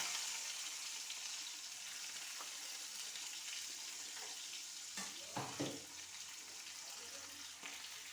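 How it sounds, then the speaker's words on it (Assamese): Oil and onions hiss faintly in a kadai in a low, steady sizzle, with a few clinks from stirring near the end. "কেৰাহীত তেল দি ৰাখিছোঁ আৰু এতিয়া ইয়াতে পিঁয়াজখিনি দি দিম"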